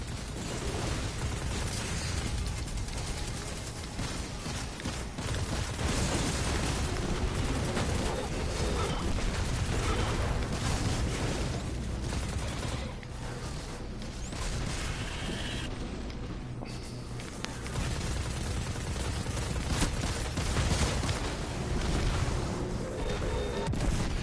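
Sustained Destiny 2 combat against Vex constructs: dense, continuous weapon fire and booming impacts, loud and close throughout with little pause.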